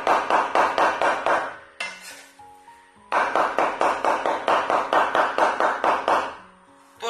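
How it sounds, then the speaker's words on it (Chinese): A knife chops thin slices of lean pork into mince on a board: rapid, evenly spaced close chops in two long bursts separated by a short pause. "切好以后再给它剁成肉末"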